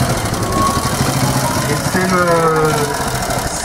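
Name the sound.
vintage French René Gillet motorcycle engine running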